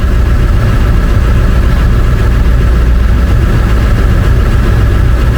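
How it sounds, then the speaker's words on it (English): An International truck with a 444E diesel engine holds a loud, steady high idle, a close, continuous low rumble with an even throb and no change in speed. "If we build up air pressure, then I'll set the high idle."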